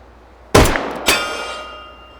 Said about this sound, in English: I think we have a better shot of hitting that gong over there now